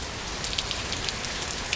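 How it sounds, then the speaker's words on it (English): Steady rain falls on outdoor surfaces as an even, close hiss with scattered droplet patters and no talking, on a grey day set aside for motorcycle maintenance. "Looks like the rain is not going to let up all day."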